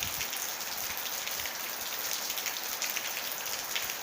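Rain falls steadily on Koh Kradueng island, a dense, even patter of drops hitting surfaces close by, continuous and without voices.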